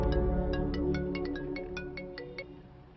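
A phone ringtone plays close and clear, a quick run of repeated electronic tones, alone with no talk over it.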